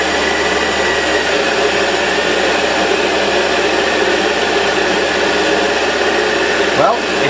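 A Warco WM180 lathe with a variable feed motor cuts metal, giving a loud, steady, close whirring drone that holds unchanged throughout.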